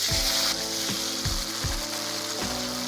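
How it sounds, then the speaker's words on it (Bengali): Chopped tomatoes frying with dried chillies in an oiled wok give a steady close sizzle, with a few soft rhythmic scraping knocks from stirring and no voices. "লঙ্কাটা লাল লাল হলে ওতে দিয়ে দেব টমেটো কুচি।"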